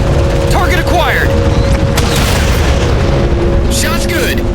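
A particle cannon fires in Halo 4: a continuous heavy, booming rumble with a steady mechanical hum beneath and a few higher whooshing sweeps, loud and close, with battlefield chatter mixed in.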